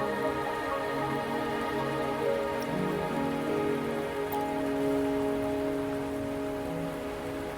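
Steady, moderate rainfall in the video game Wuthering Waves hisses evenly throughout, with no voices, only a faint low hum beneath the continuous patter.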